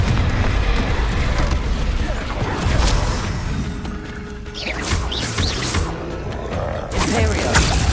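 A Confringo fire spell in Hogwarts Legacy is cast amid game combat, giving heavy booming blasts and crashing impacts over a rumbling, busy background, with bursts of higher crackle later on.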